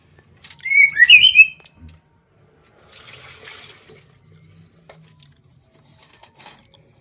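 Green leafbird (cucak ijo) just after its bath gives a short burst of bright, clear chirps, followed by faint water and handling noises.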